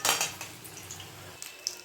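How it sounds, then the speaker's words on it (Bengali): Capsicum fritters being turned over in a frying pan, with a bright metallic scrape and clatter at the start, then quieter light clinks and taps from the utensil against the pan. "দেখো আরেক পাশ আমি উল্টে দিলাম।"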